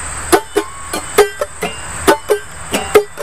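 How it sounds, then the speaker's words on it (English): Calypso rhythm tapped out by a gravity-driven music machine, a steady syncopated pattern of sharp percussive knocks with ringing mid tones, close and clear with no talking. "kind of a calypso beat, it might sound something like this."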